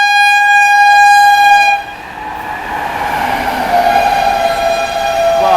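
The Puri–Tirupati express races past at about 130 km/h, sounding a long, loud steady horn that cuts off into a rushing roar of wheels and coaches close by.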